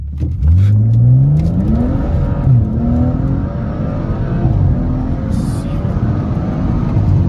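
A Lincoln Aviator engine revs up and down through gear shifts, the exhaust crackling and popping between pulls, loud and close.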